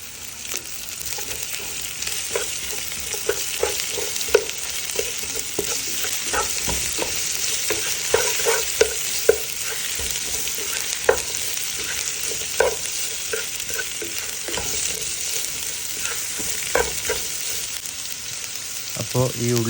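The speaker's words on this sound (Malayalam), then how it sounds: "2 വലിയ ഉള്ളി അരിഞ്ഞത് അതിലേക്ക് ചേർത്ത് കൊടുത്ത് എല്ലാം കൂടി മിക്സ് ചെയ്യുക വീണ്ടും" Two large chopped onions sizzle in oil in a pan for Kerala-style beef roast, with steady frying hiss and repeated scraping stir strokes of a spoon throughout, fairly close and continuous with no voice.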